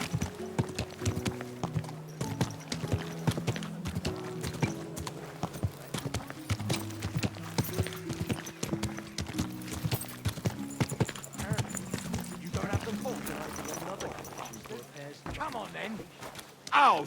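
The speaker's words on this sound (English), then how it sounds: "Someone's been pampering this horse." Rhythmic clip-clop of horse hooves continues throughout alongside background music, with a brief neigh-like sound near the end, in a video game.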